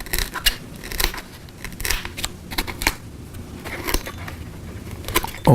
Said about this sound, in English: I could either remove it with a pair of scissors like this here